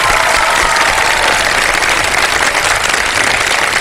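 Studio audience at a Ramadan iftar television show applauding in tribute to soldiers, a steady, loud, dense wash of clapping that holds evenly from start to finish with no voices over it.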